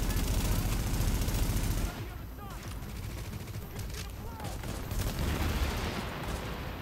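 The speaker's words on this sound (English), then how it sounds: "Holy crap, the M1A does a ton of damage." M1A rifle fire in the video game The Division: a dense, loud burst of shots for about two seconds, then quieter scattered gunfire continues in the background.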